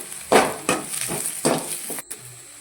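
Green chillies and crushed garlic fry in a pan for a home-style fish kulambu, crackling sizzle under four or five distinct stirring scrapes at a steady pace, close and fairly loud, no voices.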